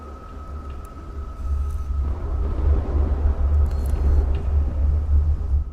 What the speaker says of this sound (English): lightning and thunder outside.